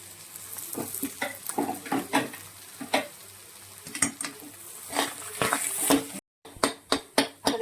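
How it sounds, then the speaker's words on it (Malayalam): Tapioca stirred into clam meat in a pan for a Kerala-style dish, with rhythmic scraping stirs over a steady sizzle and a brief cut near the end before more sharp strokes. "നമ്മൾ ഈ കറച്ചിലേക്ക് നമ്മുടെ കപ്പയും കൂടി ചേർത്ത് അങ്ങ് മിക്സ് ചെയ്യാൻ പോവാണ്"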